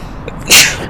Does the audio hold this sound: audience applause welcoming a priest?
no